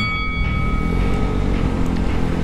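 A Vespa Sprint 150cc scooter engine runs steadily close by, a loud continuous buzzing drone with a slight rumble, no speech.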